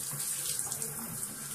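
Warm water pours steadily from a tap during a hair wash for dreadlocks, a continuous close, bright hiss with no pauses.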